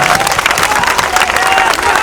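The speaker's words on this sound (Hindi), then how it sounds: "अब बजाओ ताली।" Crowd at a political rally in Jhanjharpur clapping on cue, a loud, continuous wash of many hands with a faint murmur of voices mixed in.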